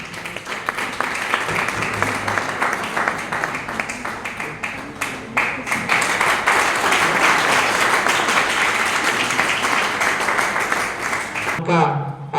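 Sustained applause from a crowd at a college teacher-training closing ceremony, dense steady clapping filling the room for about eleven seconds before cutting off abruptly.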